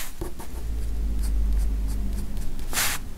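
A pen taps dots onto paper while drawing a wolf, heard up close. Soft, irregular ticks repeat steadily over a low background, and a short scratchy stroke comes near the end.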